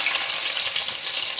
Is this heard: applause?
no